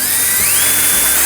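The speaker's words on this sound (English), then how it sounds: "So the next thing we're gonna do is make our 2 drill holes." A power drill bores holes through a model railroad layout table and mat, whining loud and close with the motor pitch shifting upward as it cuts.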